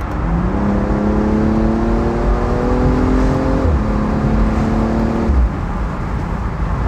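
A BMW M235i Cabrio's six-cylinder engine revs up close and loud, its whine climbing through two rising pulls with a shift between them before settling into a steady drone.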